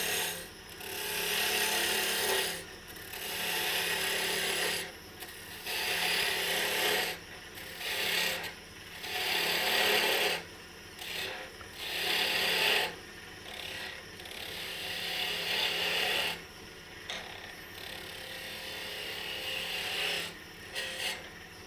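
A wooden Corzetti pasta press is sanded while spinning on a lathe. It gives a steady rasping scrape that comes in repeated strokes with brief breaks between them, close and clear over a low motor hum.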